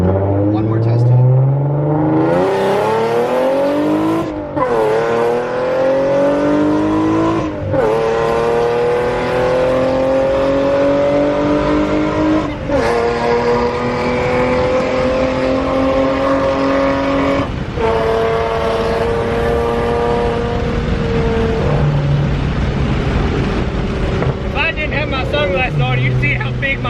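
A supercharged 3.7 V6 Mustang with an M122 blower and new throttle body revs hard through several rising gear pulls during a test run, loud and close, with voices talking over the engine.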